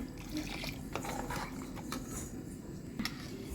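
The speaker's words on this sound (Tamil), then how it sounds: "இப்போ தண்ணி சேர்க்குற நேரம் வந்துடுச்சு." Water pours steadily into a cooking pot of chicken biryani with a continuous splashing, bubbling rush, close by, with faint clinks underneath.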